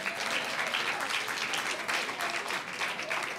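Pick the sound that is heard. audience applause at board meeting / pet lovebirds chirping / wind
audience applause at board meeting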